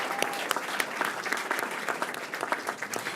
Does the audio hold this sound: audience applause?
yes